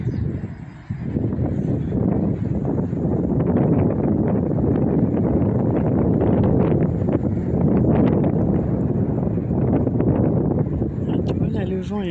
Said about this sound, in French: le vent est un petit peu plus fort